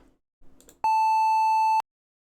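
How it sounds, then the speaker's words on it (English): A single steady synthesized triangle-wave tone with a bright, buzzy edge holds for about a second and stops abruptly, after a short soft murmur. "There's also the triangle wave"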